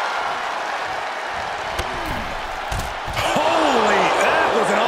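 A wrestler crashes down on a hard landing in the WWE 2K24 video game during an NXT match, a couple of thudding slams cutting through steady arena crowd noise that swells louder near the end, with a commentator's voice.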